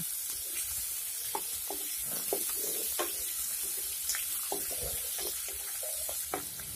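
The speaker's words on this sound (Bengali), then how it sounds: "এখন পেঁয়াজগুলিকে নেড়েচেড়ে ফ্রাই করে নিতে হবে" Chopped onions being stirred and lightly fried in a pan for a goat meat curry, with a soft steady sizzle under repeated quick scraping strokes of a spatula close by.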